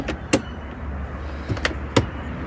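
Electric privacy curtains in a 2011 BMW X5M cabin lowering with a quiet motorised whir, punctuated by a few soft clicks and thumps over a low steady hum.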